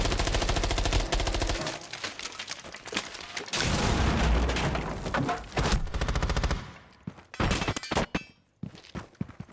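An MPX submachine gun firing in Rainbow Six Siege, with sustained automatic bursts that break into shorter volleys separated by brief pauses, loud and close.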